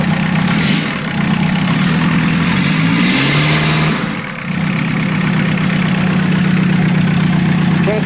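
Old swinging diesel engine revving, a loud steady chugging drone that rises in pitch, dips briefly, then settles back into a constant heavy run.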